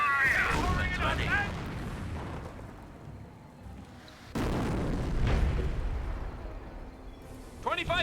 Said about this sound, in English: No, that had to be a regular barrage.